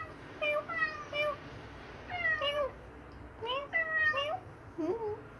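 A cat meows in a series of drawn-out, rising-and-falling calls, about five in a row, fairly close, over a low background hum.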